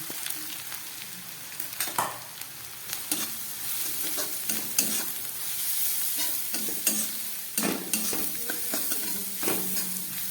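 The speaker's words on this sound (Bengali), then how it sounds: "এবার আমি এই গ্রেট করা গাজরটাকে ভেজে নিচ্ছি।" Grated carrot fries and sizzles in a pan with white cumin and coarsely crushed black pepper, stirred with frequent scraping strokes over a steady crackle, close and fairly loud.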